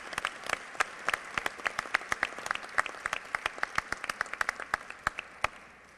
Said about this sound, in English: Now we can all clap.